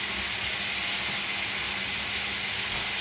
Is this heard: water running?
yes